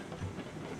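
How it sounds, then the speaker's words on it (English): A game train in Railroads Online rolls along with a steady, quiet clatter and low rumble over less than a second, with no talk over it. "And that is the train that I'm driving right now"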